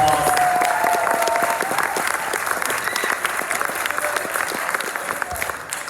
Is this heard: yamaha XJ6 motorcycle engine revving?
no